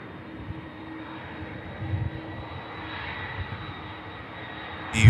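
A 28-year-old Jet2 Boeing 757 airliner at Manchester Airport gives off a steady broadband engine roar, moderately loud and continuous, rising slightly at the very end.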